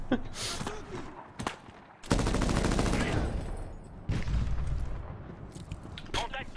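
Sustained bursts of rapid machine gun fire in the shooter game Medal of Honor (2010), dense and loud in long stretches mixed with explosive booms, while a player talks over the action.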